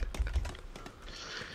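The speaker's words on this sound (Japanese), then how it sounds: "しかも今ね、一生懸命キーボードとマウスをね、" Quick, close clicking on a computer keyboard and mouse, a run of light taps and clacks heard alone for a moment.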